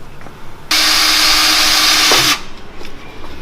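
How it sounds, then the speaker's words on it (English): Power drill boring holes into a car gearbox for a Kazama JZX100 2JZ swap, a single steady high-pitched whine lasting under two seconds, loud and close, starting and stopping abruptly. "we're going to make this fit by drilling more holes in the gearbox"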